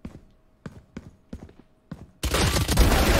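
Gunfire in the tactical shooter Valorant: five sharp, spaced shots in an uneven rhythm, then a loud sustained burst of dense noise, with a faint steady tone underneath.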